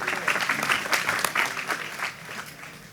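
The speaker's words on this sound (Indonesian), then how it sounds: "Nah, tepuk tangan iki." An audience at a Sinau Bareng gathering with Mbah Nun claps steadily in a dense, fairly loud burst of applause that tapers off slightly toward the end.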